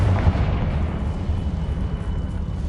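A Confringo blasting spell bursting in Hogwarts Legacy, a dense low rumbling explosion that booms at the start and rolls on steadily, moderately loud with no talk over it.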